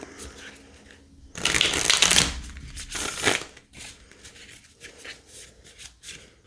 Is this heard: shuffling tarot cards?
yes